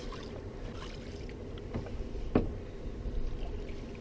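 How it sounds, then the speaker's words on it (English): A wooden canoe paddle, oiled and waxed with a burnt handle and flat neck, dips and strokes through lake water in Ontario's Kawartha Highlands, giving soft steady swishes with one clearer splash midway, close and alone. "So I'm using one of my well oiled and waxed OntarioDay paddles right now, with a burnt handle, flat neck."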